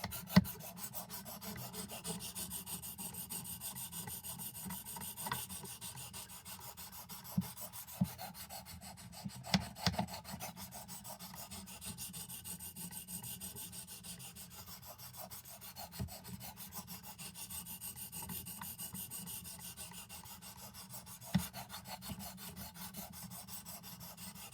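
An Old Timer Sharpfinger knife blade is drawn across a medium grit sharpening stone in steady, repeated close-up rasping strokes, with a few sharp knocks in between and no talking.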